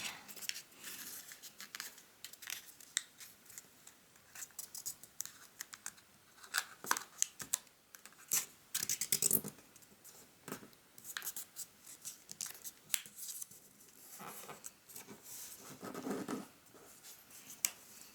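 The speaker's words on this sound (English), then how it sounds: "fold the edge on the left back, so like fold it slightly" Paper is creased and folded into an origami Santa boot, with soft crinkles, taps and rustles coming in irregular close bursts against a quiet background.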